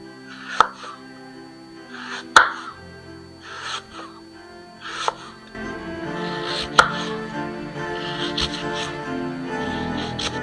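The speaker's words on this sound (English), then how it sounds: "Now that my apples are all sliced" Apples being sliced thinly with a knife for tarts, giving sharp isolated cuts spaced about a second or two apart, then a denser run of crisp chopping over a faint background.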